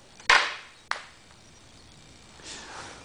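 A homemade catapult fires with a sharp snapping crack, followed by a second thud shortly after and then a faint soft rustle, all fairly quiet with no talking.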